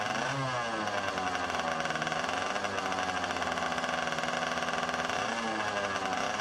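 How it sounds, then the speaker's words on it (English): A 100cc fuel-burning sidecar motorcycle runs at Bonneville during a land speed event, its small engine holding a loud, steady, buzzy drone with a slight rise and fall in pitch throughout. "That is a 100cc sidecar on fuel."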